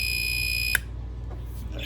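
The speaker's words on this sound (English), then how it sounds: "When that beep goes off, he says that they're done." A kitchen timer or appliance beep signalling food is done: a steady high electronic tone that cuts off sharply, followed by quiet room sound with faint movement.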